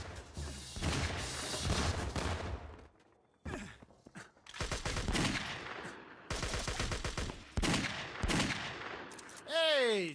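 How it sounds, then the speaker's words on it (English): Golden gun firing in the action game Total Overdose, rapid loud bursts of gunshots in several long volleys separated by short pauses, ending with a whooshing effect. "Golden gun."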